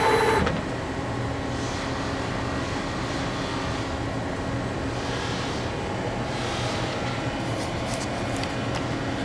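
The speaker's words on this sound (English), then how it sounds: "And now we'll get a Y-axis movement here as soon as this finishes zeroing out." A CNC mill's Y-axis servo drives with a steady, even mechanical hum and whir, close and continuous, after a brief louder burst at the very start; no one talks over it.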